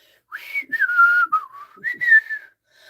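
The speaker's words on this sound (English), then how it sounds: "Joe immediately sat up, put her hands in her pockets, and began to whistle" A short, clear whistled tune of a few sliding notes, close and alone, with pauses between phrases.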